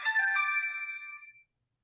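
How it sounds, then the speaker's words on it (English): A phone ringtone sounds at the start, a bright electronic tone that holds briefly, then fades out within about a second and a half into silence. "I forgot to put my phone on. Do not disturb."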